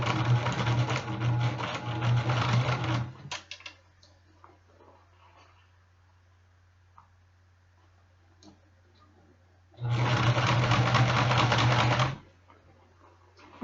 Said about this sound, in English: And then go around slowly to finish the sleeve edge off.